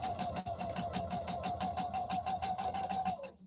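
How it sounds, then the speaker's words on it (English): A home sewing machine stitches a quarter inch quilt seam in a steady, rapid mechanical rhythm, close and alone, running continuously before stopping abruptly at the end. "So I'm going to sew my perfect 1/4 inch seam."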